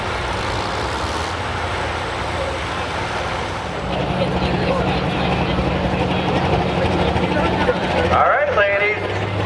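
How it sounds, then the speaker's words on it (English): An early or mid-1960s tractor at a tractor pull: the engine drones steadily, then roars louder from about four seconds, with an announcer talking over it and outdoor crowd noise around it. "Tractor. Built back in the early 60s or mid-60s. Coming out here and having fun with it."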